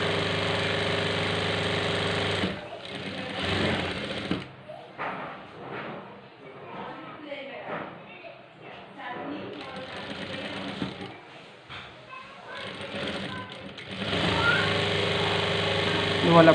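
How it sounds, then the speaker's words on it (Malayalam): A Jack F4 industrial sewing machine runs fast and steady at the start and end while stitching fabric piping. Between those runs someone talks over quieter handling sounds. "ഈ മെഷീൻ നല്ല സ്പീഡുള്ള മെഷീനാണ്"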